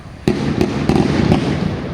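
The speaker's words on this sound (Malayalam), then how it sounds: "ഇവിടുത്തെ പ്രധാന വഴിപാടുള്ള വെടി" Several loud offering firecracker bursts at Thriprayar Sree Rama Swamy Temple go off in quick succession, sharp booming cracks with a rumbling wash lingering between them, no talking.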